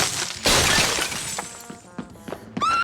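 Frozen statue in a cartoon shattering like glass, one loud bright crash followed by scattered tinkling shards and short smaller cracks.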